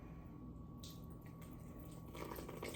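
Warm water pours into a bowl for sourdough dough, a quiet trickle and splash that swells slightly toward the end, faint and close with no talking.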